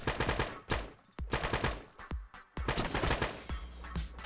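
Rapid bursts of rifle gunfire from a homemade video game, several quick volleys of sharp shots separated by short pauses, loud and close with no talking.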